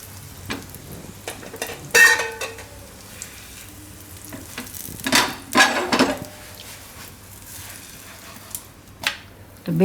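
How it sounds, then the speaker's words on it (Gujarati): Moong dal paratha roasting on a pan over low heat: soft intermittent sizzles and scraping, with occasional sharper clatters of a utensil against the pan as the flatbread is turned, fairly quiet throughout. "એક બાજુ શેકાઈ જાય પછી ફેરવીને બીજી બાજુ શેકી લેવું"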